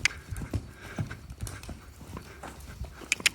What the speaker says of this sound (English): Active, jumping canter.